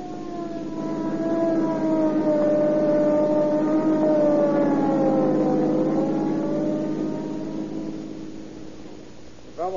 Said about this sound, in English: An ambulance follow up